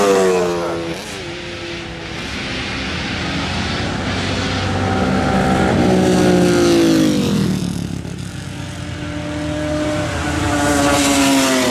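A Honda CR77 350 Grand Prix racing motorcycle, a replica, runs at a classic TT road race in Gramsbergen, its engine rising and falling loudly as it passes close by, with a continuous wailing roar throughout.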